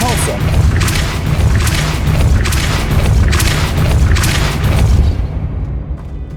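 Depulso spell casting in the video game Hogwarts Legacy makes loud, repeated booming blasts of force over a dense, continuous game soundscape, ending in a fading tail.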